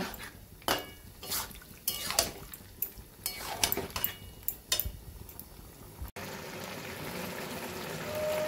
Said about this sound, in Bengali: এবার আর একটু জল দিয়ে দু 3 মিনিট মতো রান্না করে নেব।